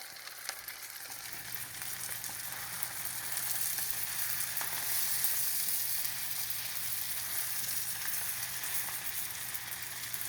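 Sockeye salmon fries skin side down in a hot pan, giving a steady close sizzle that holds without a break for about ten seconds, with no talking.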